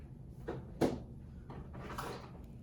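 A top drawer slides open, giving a few distinct rubbing and clunking scrapes spread over about two seconds, close and fairly quiet in an otherwise still room.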